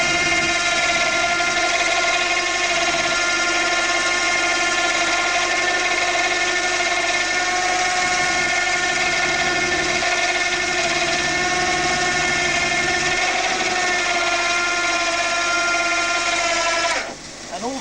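A vehicle engine idles steadily during a winching pull, a continuous tonal drone with strong harmonics that holds loud and unchanging for most of the stretch before tapering off near the end.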